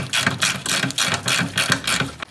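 A hand ratchet tightens a trailing arm bolt on a car, giving about ten quick, evenly spaced clicking bursts up close, each a short rasping pawl sound, with no talking.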